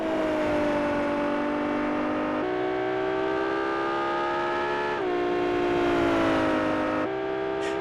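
Ferrari FXX engine in the Automobilista 2 racing game, heard from the cockpit: a steady, loud whining drone that climbs in pitch through each gear, then drops sharply at each shift, with three upshifts.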